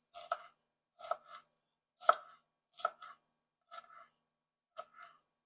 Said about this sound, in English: We're gonna start chopping these long ways.